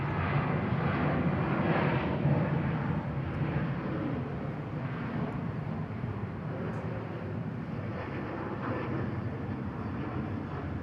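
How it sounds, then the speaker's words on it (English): Xiamen Air Boeing 737-800 departing, its steady broadband jet engine roar holding loud and continuous throughout with no voices. "Lovely Xiamen Air departure,"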